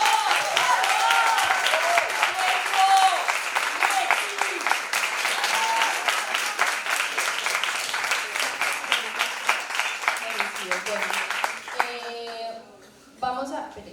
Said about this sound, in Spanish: un aplauso para los ponedores.